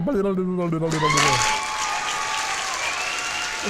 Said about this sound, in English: We could do another applause for you.